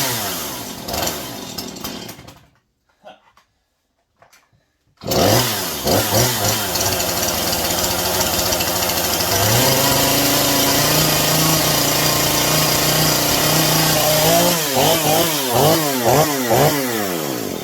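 A Husqvarna 440 chainsaw with its idle set too low runs close by, sputtering and cutting out briefly before restarting, then idling roughly with a few rising throttle revs near the end.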